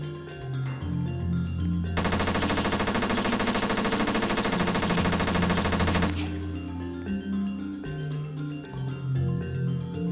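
Rapid automatic gunfire from the video game Infectious Smile rattles in one dense, loud burst of about four seconds, with quieter game sounds before and after.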